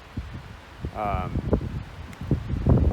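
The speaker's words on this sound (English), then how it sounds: "It's so dang windy." Gusty wind buffets and rumbles across the microphone, with faint rustling and a brief voice partway through.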